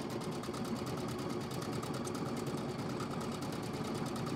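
A computerized quilting machine runs steadily while stitching a textured quilting motif on a quilted pillow. The needle makes a fast, even mechanical patter at moderate, close volume with no talk.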